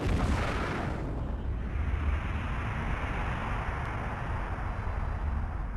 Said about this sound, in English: It started with a Big Bang.